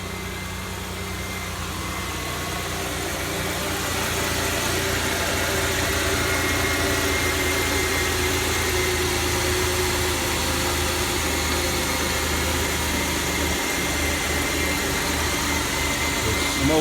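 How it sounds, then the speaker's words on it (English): A 2006 Chevy Impala engine idles steadily as it warms up after an engine detail, a continuous close mid-pitched hum with a faint rise in level after the first few seconds and no voices. "We're gonna let that engine air out,"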